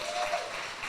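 Applause from an audience during a business talk show, a brief wash of clapping that stays fairly even across a second at moderate level.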